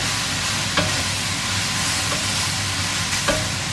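Soy sauce hits a hot pan of Szechuan-style hare and sizzles steadily up close, with a few sharp scraping clicks from stirring at intervals.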